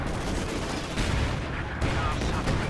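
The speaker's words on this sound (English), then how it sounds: "A strafe against that position." Strafing run in a real-time strategy match, a dense continuous rattle of gunfire and explosions filling the whole clip, loud and unbroken, with faint game sounds mixed in.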